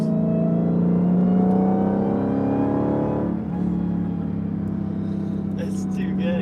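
A high supercharger whine rises in pitch over a running Dodge Challenger SRT Demon engine, then eases back to a steady drone, close and continuous.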